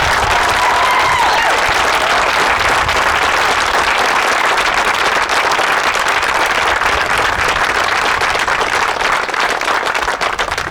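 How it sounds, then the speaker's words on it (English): Large audience gives a sustained, loud round of applause for Windsor police officers at a church service, dense clapping filling the whole stretch with a brief voice near the start. "So would you give these guys a big round of applause for what they do?"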